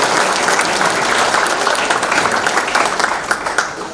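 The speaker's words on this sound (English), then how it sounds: "Big round of applause for Barry Michael." A hall audience applauds Barry Michael, a sustained wash of dense clapping at steady loudness that thins slightly toward the end.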